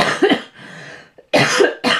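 Two harsh, loud coughs close to the microphone, separated by a short pause with a faint, breathy sound between them.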